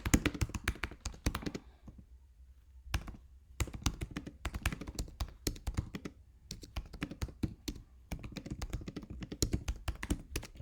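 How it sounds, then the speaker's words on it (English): Fast typing on a computer keyboard, with dense bursts of clacking keystrokes separated by short pauses, close and fairly loud with no talking. "Let's type it up."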